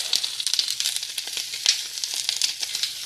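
Short ribs sear in a hot pan before going into a slow cooker, a loud, close, steady sizzle full of dense crackling pops and hiss throughout, with no voices.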